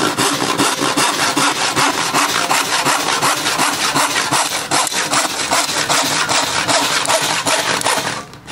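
Hand saw cutting through a wooden board clamped over a workbench edge, a loud, close, rhythmic series of rasping back-and-forth strokes that continues steadily and then stops at the end.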